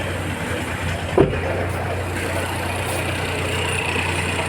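A Geely Azkarra 1.5L engine idles roughly with a misfire on cylinder 1 from a worn spark plug, giving a steady low hum with one brief knock near the start and no speech.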